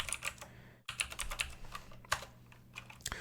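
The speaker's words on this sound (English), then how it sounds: "Now if I type directory" Typing of commands on a computer keyboard during malware analysis work, a steady run of close, crisp key clicks with a brief pause, no talking.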